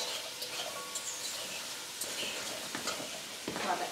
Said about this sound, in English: that's sizzling really nicely